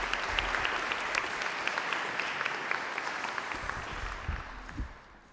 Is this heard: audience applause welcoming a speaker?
yes